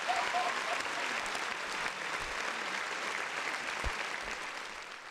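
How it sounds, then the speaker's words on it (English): Dense, steady applause from an audience on a podcast episode, loud and close, sustained throughout and easing slightly toward the end. "Round of applause."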